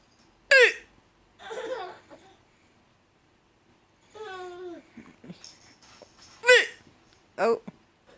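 A baby girl's sharp little hiccups pop out in short, loud bursts, near 0.6 s, 6.5 s and 7.4 s, with someone talking between them and brief giggly baby sounds.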